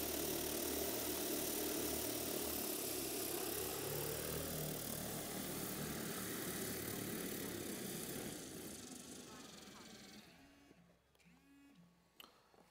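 A DJI Agras T50 agricultural spraying drone flies with a loud, steady propeller whine and hum that gradually fades as it moves away, leaving near-quiet at the end.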